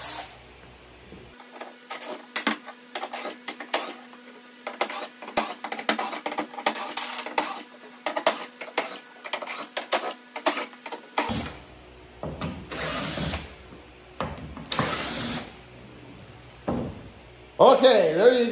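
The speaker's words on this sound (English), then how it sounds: "So let's go ahead, I'll remove these screws." A power drill or driver backs screws out of a Toyota Tacoma tailgate panel in a series of short, close whirring bursts with pauses between them, growing busier and louder toward the end.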